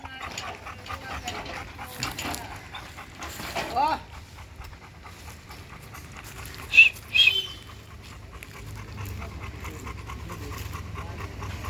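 A stray Labrador dog found near a ring road at night pants steadily and close, with a couple of brief whimpers and people talking over it.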